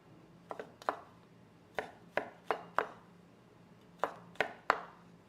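A kitchen knife chopping food on a cutting board, sharp isolated chops in small irregular clusters, close and fairly quiet against a low background hum.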